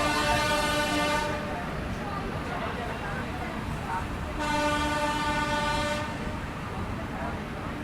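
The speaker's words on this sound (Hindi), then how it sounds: "कानपुर शताब्दी आ रही भाई साहब" Kanpur Shatabdi Express passing Firozabad station, heard as steady rumbling rail noise with two long tonal horn blasts, while someone talks over it.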